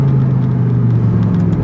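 A Lamborghini supercar fitted with an Armytrix exhaust drives through a small underpass, its engine a loud, steady low rumble and whir that fills the enclosed space close by, with no voices.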